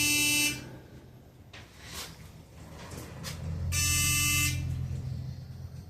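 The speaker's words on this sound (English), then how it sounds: "The buzzers, you can see, are sounding kind of weak today." A parking garage elevator's buzzer sounds in two electronic bursts, one at the start and a longer one near the end, over a low mechanical hum of the car in motion.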